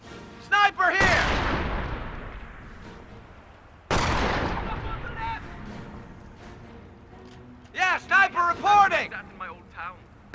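Sharp bursts of World War II gunfire in a Normandy battle from Company of Heroes, two big loud blasts that decay slowly, then a quick run of rapid shots near the end, with shouted soldier voices mixed in.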